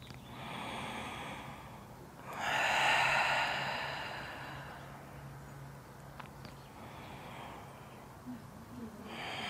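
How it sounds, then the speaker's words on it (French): A slow breath drawn in through the nose and then blown out during a hip-stretching session. It is one soft, breathy exhale that swells and fades, close and unaccompanied, with a quiet room hush after it. "tu inspires par le nez et tu souffles"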